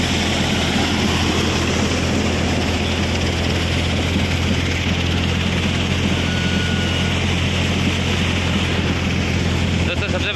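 Steady, loud drone of a camera drone's propellers hovering over a mustard field where workers are harvesting, a constant buzzing whine that holds unchanged from start to finish.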